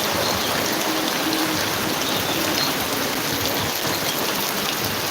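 A constant downpour hits the ground and other surfaces during flooding in Gazipur. The hiss is loud, even and close with no pauses and no voices.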